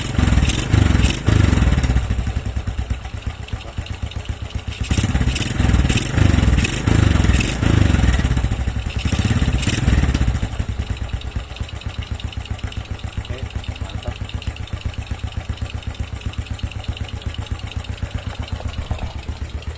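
A Honda Smash motorcycle with a water-contaminated carburetor starts and idles nearby, with loud throbbing bursts for the first ten seconds, then settling into a steady, quieter idle rumble.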